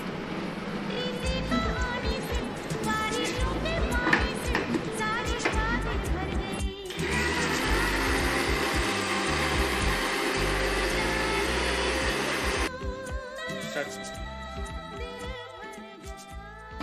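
Kitchen mixer grinder whirring as it blends spices such as coriander powder into a paste for a Bengali prawn and pointed gourd curry, a loud steady motor drone that runs in bursts, stops briefly between them and switches on and off abruptly.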